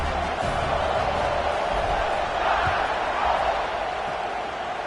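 A stadium crowd roars steadily in College Football 26 before a kickoff, a dense sustained wash of cheering and noise without clear peaks and no one speaking over it.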